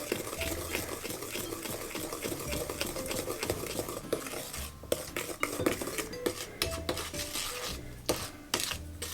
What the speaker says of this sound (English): I'm going to just give that a stir in.